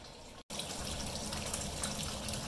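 Wort recirculates steadily through a Brewtools brewing system in a constant, fairly loud rush of flowing liquid, broken once by a split-second dropout.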